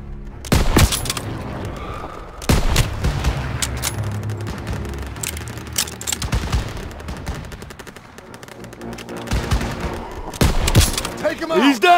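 Call of Duty WW2 combat, loud bursts of rifle and machine-gun fire cracking in clusters with booming impacts, under shouted soldier voices.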